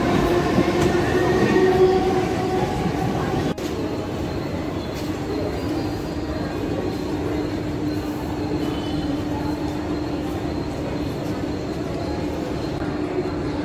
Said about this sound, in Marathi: उतरलो आता ट्रेनमधून खार स्टेशनला.